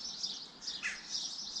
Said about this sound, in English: I'm getting visitors from all the birds this morning.